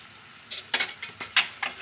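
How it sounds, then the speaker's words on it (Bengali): A spoon stirs ginger-garlic paste in a pan, giving a run of six or seven short, sharp scrapes and clinks at a quick, uneven rhythm after a half-second of near silence. "দিয়ে ভালো করে একটু নেড়ে দেবো"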